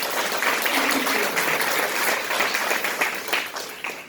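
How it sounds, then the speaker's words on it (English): A crowd gives a dense, sustained round of applause at an elementary school ribbon cutting, many hands clapping together for about four seconds before tapering slightly, with a single spoken word at the start. "So I want to give her a round of applause for her"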